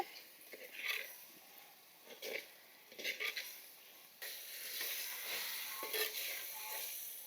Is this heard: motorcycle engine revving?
no